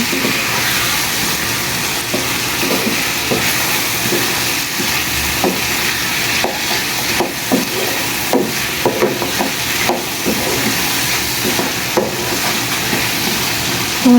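Pumpkin and spices fry in a pan with a steady, close sizzle, while brisk stirring adds scattered scrapes and clatters over roughly fourteen seconds, and no one speaks.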